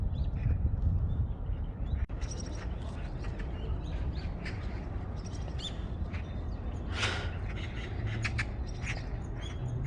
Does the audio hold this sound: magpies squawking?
yes